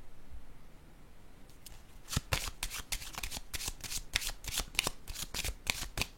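Tarot cards are shuffled by hand in a quick run of crisp riffling flutters and snaps that starts after a short quiet pause, close up, with no talking.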